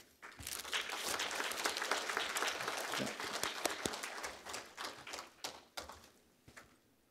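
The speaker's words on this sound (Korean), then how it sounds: "마지막 분들이니까 큰 박수 부탁드립니다" A church congregation claps at an appointment service, the applause swelling quickly into a full, fairly distant patter, then thinning out into scattered final claps.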